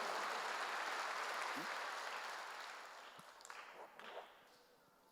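A church congregation claps during a sermon, the applause broad and fairly faint before thinning out and fading away.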